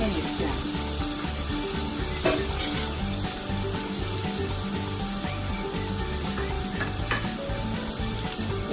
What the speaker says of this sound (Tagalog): Igisa niyo lang po siya ng konti para matanggal yung mga lansa.